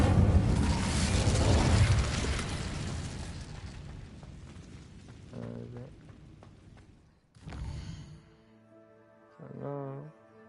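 An Incendio fire spell is cast in Hogwarts Legacy, starting with a loud, roaring burst of noise that fades out. Separate magical chimes and tonal swells follow, with short pauses between them.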